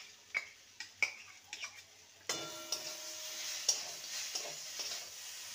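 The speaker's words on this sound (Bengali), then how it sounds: "ভালো করে নেড়ে নেব" A spoon scrapes and knocks through a poha (flattened rice) mixture in a pan with coriander added, sharp irregular clinks over a soft sizzle that grows steadier partway through, with no voices.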